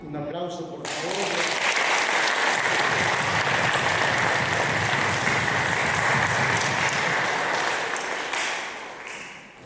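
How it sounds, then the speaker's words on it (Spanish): Loud, dense applause from a wedding congregation in a church in Lima, rising quickly after a brief opening, holding steady and fading toward the end, with some voices mixed in. "Un aplauso, por favor."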